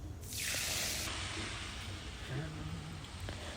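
Spice paste hits hot mustard oil for a Bengali fish curry, bursting into a loud, close sizzle that surges at once, then settles into a steady crackling hiss that runs to the end.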